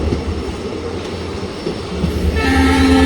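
A train on the Talaguppa to Shivamogga line rumbles along loudly with steady wheel noise, then its horn sounds in a sustained, tonal blast near the end.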